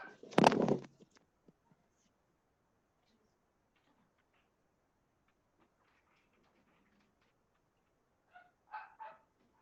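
A household dog barks sharply and loudly at the start in a short burst, falls quiet, then gives a few more barks near the end, in an indoor home setting.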